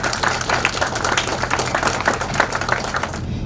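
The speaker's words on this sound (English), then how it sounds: "Let's give them a bigger round of applause." A room full of people applauds steadily for standing parents and mentors, a dense, continuous wash of clapping that holds at even loudness before cutting off at the end.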